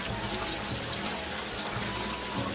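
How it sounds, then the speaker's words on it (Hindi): Dense, hissing rain pours steadily with a constant wash of noise, no voices. "बारिश बहुत तेज थी"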